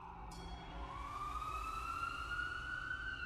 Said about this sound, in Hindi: उन्हें एक एम्बुलेंस की आवाज आई।